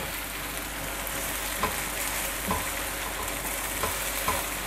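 Cubed tomatoes dropped into a hot kabab karahi pan, with a steady close sizzle and frying hiss running throughout and a few soft stirring knocks scattered through it.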